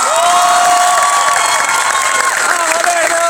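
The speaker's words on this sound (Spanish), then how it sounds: "Un fuerte aplauso para el chat Coleman" A Comic Con crowd in Argentina cheers and applauds for actor Chad Coleman, a steady loud roar of many voices and dense clapping filling the whole stretch, with whistles and shouts riding on top.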